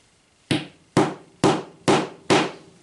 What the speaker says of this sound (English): Put your nail in place, press down and hammer it in